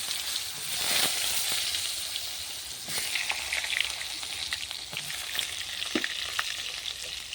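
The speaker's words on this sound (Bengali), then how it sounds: "বেগুনগুলো লাল করে ভেজে নেব" Eggplant pieces fry in oil over a clay stove, a steady close sizzle and crackle with scattered pops and a few stirring scrapes, with no talking.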